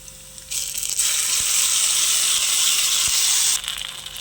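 Maggi noodles drop into onions frying in a steel pan, setting off a loud, steady broadband sizzle that swells after a brief lead-in and holds close and bright before easing off near the end.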